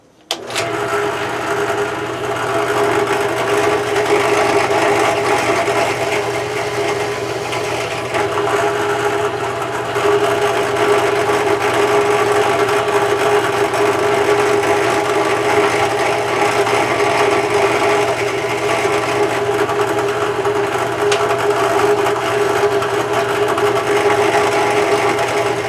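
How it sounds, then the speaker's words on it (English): A drill bores holes in parts for a Redcat Ascent 1/10 RC crawler in a shop, running as a steady close whir with a constant hum for the whole stretch and no talk. "I'm going to go in the shop and drill some holes."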